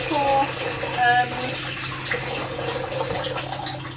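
A lemon is washed under a running tap, with steady splashing water throughout and a couple of brief squeaky tones near the start.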